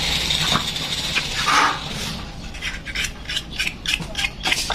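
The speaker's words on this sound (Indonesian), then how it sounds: "Amplas dulu bosku nih, biar sisi yang tajamnya ini supaya jadi tumpul bekas gerinda tadi." A sharp, grinder-cut edge of a Yamaha Fino 125 engine part is sanded by hand, giving repeated rasping strokes in a steady rhythm, close and clear with no talk.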